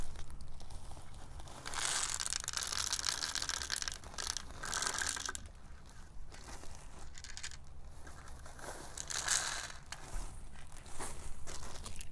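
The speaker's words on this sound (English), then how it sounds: "And you pour in your popcorn." Popcorn poured through a funnel into a rubber balloon, a continuous dry rustling, rattling stream that surges and eases over about twelve seconds, close by, with no talking.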